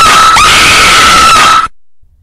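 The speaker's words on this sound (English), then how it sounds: "the speakers emitted an ear-splitting screech." An ear-splitting electronic screech from the NES Godzilla video game, a harsh, piercing sustained shriek that blares loud and alone for about a second and a half, then cuts off abruptly into silence.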